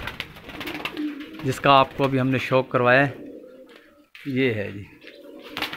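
Rooftop pigeons in Mianwali coo in repeated warbling phrases close by, while someone speaks briefly over and between the calls.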